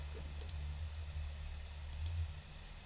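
Mouse clicks from editing an image in graphics software, two quick pairs of sharp, faint clicks over a steady low electrical hum.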